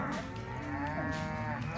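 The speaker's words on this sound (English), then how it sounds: "they had to move all the cows out of this corral" Cattle in a ranch corral of a breeding herd, with calves just separated from their mothers, give a long, low, close moo that fills the brief moment on its own.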